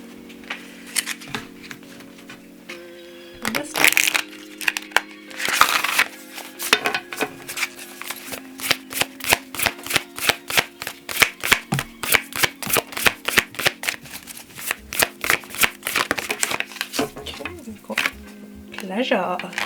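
Oracle cards are shuffled by hand in rapid, repeated papery riffles and flicks. Bursts grow busier after a brief pause near the start and carry on close and crisp to the end.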